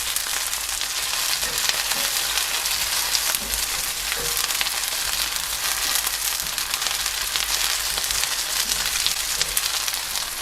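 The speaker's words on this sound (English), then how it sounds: "we want to start moving the onions around now. This way they're going to start coating in that melting sugar" Onions sizzling loudly in a pan of melting sugar, a dense continuous crackling hiss as they are tossed, close and steady throughout.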